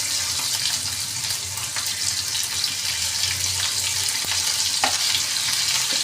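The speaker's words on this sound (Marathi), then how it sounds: "तर बघा तेल तापलेलं आहे. आता आपण एक एक अशी भेंडी सोडायला घेऊया." Okra pieces sizzle and fry steadily in hot oil on a tawa, a continuous crackling hiss with small pops and clinks, and no one talks over it.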